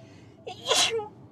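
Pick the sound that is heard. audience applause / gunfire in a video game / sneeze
sneeze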